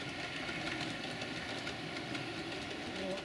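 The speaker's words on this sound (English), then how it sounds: "Then we should be able to run a few trains." A model railway train runs along the layout's track, a steady, continuous rolling rumble with faint rail clatter, close and even throughout with no voices.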